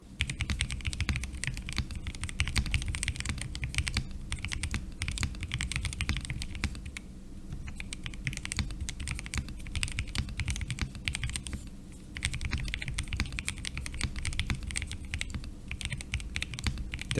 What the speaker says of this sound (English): It was time to do a typing test and see how the keyboard sounded.